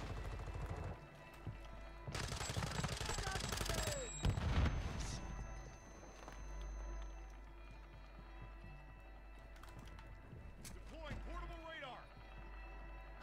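Airstrike explosions in the video game Warzone, heavy booming blasts and rumbling impacts with scattered gunfire, loud and near, mixed with talk.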